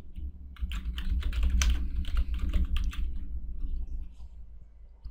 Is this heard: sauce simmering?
no